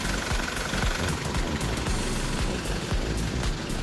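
A 2016 SsangYong Korando Turismo 2.2 diesel 4WD idles up close, with a steady dense rumble and a fast, even knocking clatter that runs unbroken throughout.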